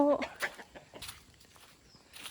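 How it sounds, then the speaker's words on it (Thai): Chickens cluck in a few short, close bursts, with soft scuffling sounds between them. "นี่ทุกคนไก่"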